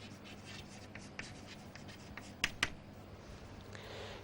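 Chalk or marker strokes on a board during a maths lecture, quiet scratching and tapping with two sharper taps near the middle, over a steady room hum with no talk.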